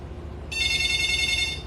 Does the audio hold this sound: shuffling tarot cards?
no